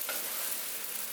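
Wooden spoons stir pasta stir-fry in a hot pan with steady broadband sizzling and a light scrape near the start, fairly quiet and close, with no speech.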